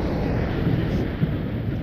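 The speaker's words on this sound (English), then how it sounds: "you're just freaked out by the thunderstorm" Thunderstorm ambience in The Sims 4, a steady low rumble of rain and thunder with a slightly louder roll partway through, continuous and fairly loud with no talking.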